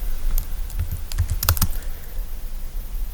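Fingers typing a search into Google Maps on a computer keyboard, a quick irregular run of soft close key clicks that bunches up midway and then stops, leaving faint background hiss.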